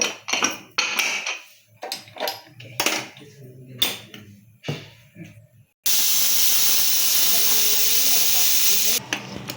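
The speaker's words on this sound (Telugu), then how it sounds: "ఇప్పుడు కుక్కర్ మూత పెట్టేస్తాం." A pressure cooker of lentil and amaranth-leaf dal hisses with a loud, steady jet of steam for about three seconds. It follows a stretch of clattering kitchen sounds and voice, then cuts off abruptly.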